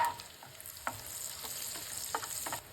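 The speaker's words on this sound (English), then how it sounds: "Add 1/4 cup of sliced garlic. Sauté it until fragrant and started changing color." Sliced garlic sautés in butter or ghee in a pan, a soft steady sizzle with a few distinct stirring taps, fairly quiet and close, with no one speaking.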